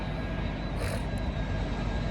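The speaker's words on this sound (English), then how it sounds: "y'all know it's these airplanes, man. The private jets, man." Steady broadband roar of jet aircraft passing overhead, moderately loud and continuous, with a brief hiss swelling midway and no talking.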